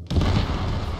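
A deep, rumbling video game explosion in Sarge's Heroes fills the whole second, heavy low-end boom sustained after a sudden onset, loud and close.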